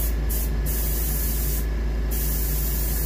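Short bursts of spray paint laid in a light coat of gill red on a muskie taxidermy mount, three brief hissing puffs over a steady background hum and hiss, close up.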